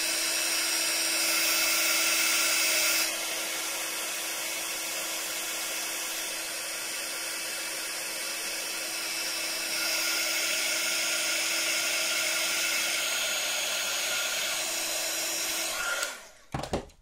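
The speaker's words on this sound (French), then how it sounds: "je vais juste faire sécher avec mon heat gun" A heat gun drying paint in an art journal gives a steady, loud whirring blow with a high whine, running continuously for about sixteen seconds before switching off with a brief clatter.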